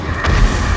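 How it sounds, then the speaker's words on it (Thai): A grenade explodes in the 7 Days to Die video game, producing a short, loud, deep boom with a rumbling tail under a second long. "เอาละผมจะโยนระเบิด"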